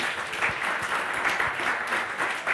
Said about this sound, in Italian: quindi un applauso per Paolo